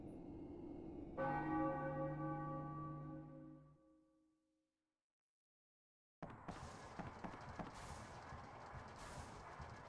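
A single deep bell strikes loudly and rings out, fading slowly into silence, followed by a burst of ambient noise.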